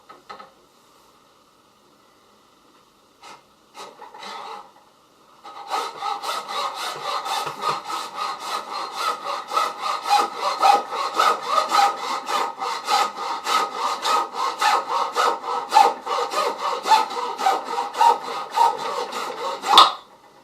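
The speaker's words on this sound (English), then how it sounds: "now I'm going to cut it with a hacksaw" A hacksaw cuts through PVC pipe with quick, regular rasping back-and-forth strokes, close and clear, after a few tentative starting strokes.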